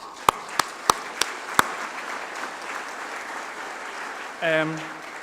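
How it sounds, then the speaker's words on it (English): Audience at a university conferring ceremony, UCC 2011: a few loud, sharp claps close by at the start, then a soft spread of applause from the hall, with a brief voice near the end. "I wouldn't mind if you give them a round of applause"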